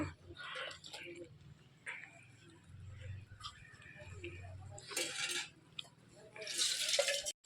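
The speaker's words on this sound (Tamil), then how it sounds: "நல்லா கைவிடாமல் இப்படி கிண்டிக்கிட்டே இருக்கணும் இல்லைன்னா கட்டி ஆயிரும்" Cotton seed milk (paruthi paal) being stirred in a pot, soft intermittent scraping and clinking of a spoon against the pot, fairly quiet, with occasional brighter knocks.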